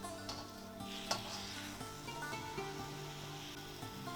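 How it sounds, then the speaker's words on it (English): Beef with Chinese mushrooms, light soy sauce and oyster sauce being stirred in a hot pan, a quiet sizzle under soft scraping and clinks of the utensil against the pan. "so give it a quick stir up."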